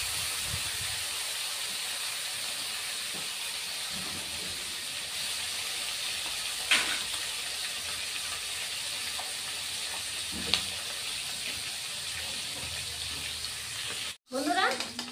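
Koi fish frying in hot oil, a steady broad hiss running throughout with a couple of brief sharper crackles and a short clunk near the end.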